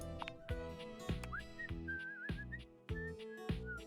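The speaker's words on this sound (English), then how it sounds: "He's whistling when you walk up on him" A character in the video game Date Everything! whistles a short, wandering tune over steady background music with regular thumping beats.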